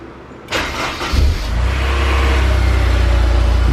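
A Honda S2000 with 80k miles, being rebuilt after a wreck, cranks and fires up, then settles into a loud, close, steady idle.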